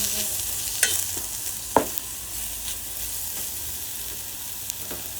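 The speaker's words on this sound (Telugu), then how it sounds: "కొంచెం కస్తూరి మేతి, బిర్యానీ ఆకు మళ్ళీ కూడా దోరగా" Kasuri methi and a bay leaf fry in a hot pan for egg fried rice, giving a steady sizzle broken by a few stirring scrapes and clinks.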